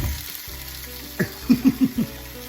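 Food sizzling in a home kitchen pan, a low steady fry with a few short soft thumps and sputters as it is flipped, close and fairly quiet.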